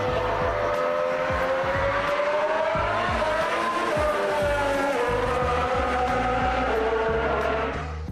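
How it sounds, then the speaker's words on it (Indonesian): A 2026-regulation Mercedes Formula 1 car during a Silverstone filming day, its engine a loud, harsh, continuous roar that holds steady and rises slightly in pitch before fading at the end, with no talk. "Suara yang dihasilkan mesin Mercedes di regulasi baru tergolong keras dan gahar"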